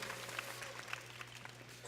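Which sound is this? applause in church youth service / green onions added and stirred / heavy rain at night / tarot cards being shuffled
applause in church youth service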